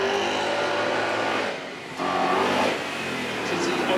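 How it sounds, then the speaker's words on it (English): Ford Mustang RTR with a 5-litre V8, a former Formula Drift car, roars loudly on a track at a supercar weekend, its engine note holding steady with a brief dip before surging again. "we have our Ford Mustang RTR"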